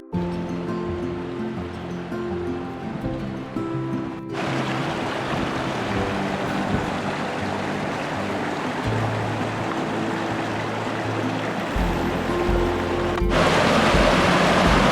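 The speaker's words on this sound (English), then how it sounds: "This is the water that flows from Mica Lake up where I was." Stream water flowing down from Mica Lake in Grand Teton, a steady broadband rush like surf that stays loud and even throughout, with the roar growing briefly stronger near the end.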